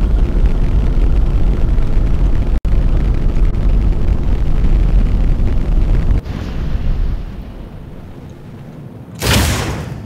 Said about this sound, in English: Yes, I did just fire the SRBs.